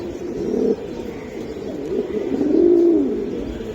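Pigeons coo close by, one soft rolling coo early and a longer, louder one later, with no voices.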